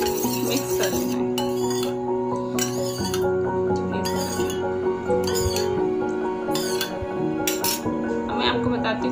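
A spoon clinks and scrapes against a bowl as a rose water home remedy is mixed by hand, with repeated short metallic taps over a steady hum, and someone talks throughout.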